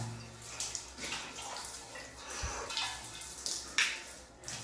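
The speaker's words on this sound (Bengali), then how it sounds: "এই দেখো ফেস ওয়াশ করছি মা" Water splashes in uneven bursts as a face is washed at a tap, with running water beneath and brief louder splashes near and close.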